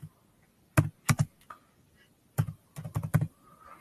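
Computer keyboard typing while filling in an admission form, quick clusters of close, crisp key taps separated by short pauses.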